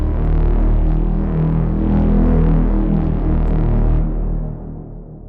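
An epic warhorn synthesized in Vital, sounded as a deep, loud, sustained brassy blast with a slight throbbing pulse, holding steady before fading out at the end, with no voices.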